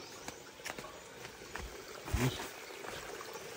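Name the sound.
water flowing along a hillside path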